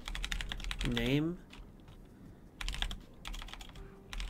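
Fast, close clicking on a computer keyboard in quick bursts, with a short spoken word near the start.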